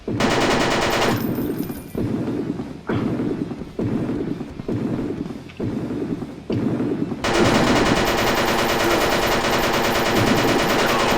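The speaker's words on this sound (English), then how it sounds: "This is the one with the Gatling gun, I think." A Gatling gun fires in a dinosaur-hunting video game: several loud rattling bursts separated by short gaps, then one long continuous roar of rapid fire.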